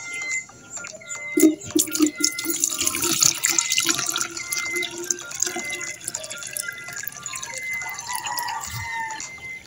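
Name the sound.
water poured into container to mix with poultry medicine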